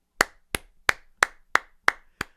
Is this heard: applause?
yes